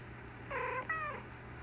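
Two short, close meows from one of the many cats kept in an old house, each bending in pitch, rising over a low steady hum with no voices.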